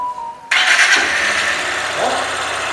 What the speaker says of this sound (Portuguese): Ó, pegou de primeira, hein? Partida elétrica.